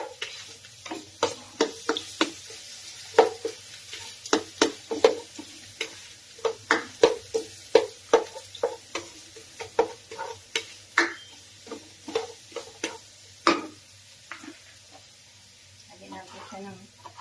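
Chopped onions stirred in a frying pan, a regular series of sharp scraping knocks from the utensil over a soft steady sizzle, close by, with the stirring stopping near the end.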